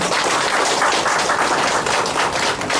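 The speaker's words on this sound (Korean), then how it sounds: "조영 부위원님 더욱더 열심히 일하시라고 크게 박수 한번 부탁드립니다" An audience at a neighbourhood community gathering with a lawmaker claps together in a dense, sustained burst of applause that fills the room evenly from start to finish, with no voices over it.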